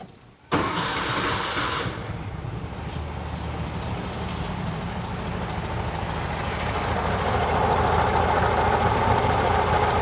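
1968 VW Type 3 with dual 34 carburetors cold starting: a quick crank catches, then the engine settles into a steady, fairly loud idle that slowly rises in pitch.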